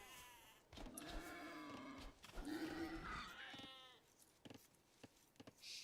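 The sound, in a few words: sheep bleating in the video game Age of Empires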